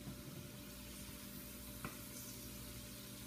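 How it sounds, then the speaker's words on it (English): Pineapple caramelizing in a pan, giving a soft, steady sizzle and crackle with one brief stir or clink partway through. "Here we're just going to caramelize our pineapple."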